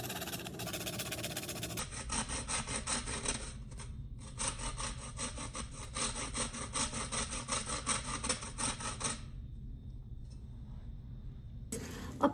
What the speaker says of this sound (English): here we have fresh nutmeg. Pretty hard, and you got to grate it.